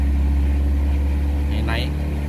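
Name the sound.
1999 Mitsubishi Kuda diesel engine revving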